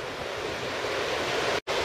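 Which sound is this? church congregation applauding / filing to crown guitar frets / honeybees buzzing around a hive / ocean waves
ocean waves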